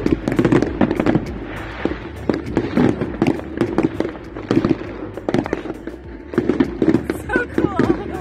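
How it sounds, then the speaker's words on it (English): Fireworks burst over a ski resort on New Year's Eve, a dense run of sharp cracks and booms going off one after another, loud and close, with crowd voices talking and cheering underneath throughout. "The fireworks were amazing."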